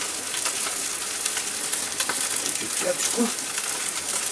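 Beef brains with onion fry in a hot pan, giving a steady close sizzle and crackle throughout with a few soft stirring scrapes near the end.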